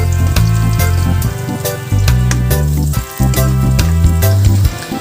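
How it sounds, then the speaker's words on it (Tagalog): Garlic frying in oil for beef tendon adobo is stirred until golden brown, a close, bright sizzle with crackles and stir scrapes over loud background music. "Halo-haloy lang natin to guys hanggang sa mag golden brown yung bawang."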